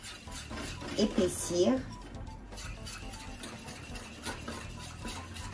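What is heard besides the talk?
stirring béchamel sauce in a small pot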